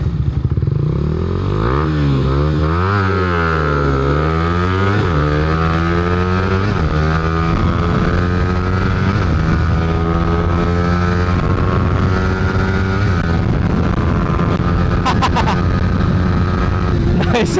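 Two Suzuki Raider motorcycle engines, an old fuel-injected Raider FI and a Raider Pro, rev up hard together, their pitch climbing and dipping through gear changes in a loud, close, sustained roar with a brief clatter near the end.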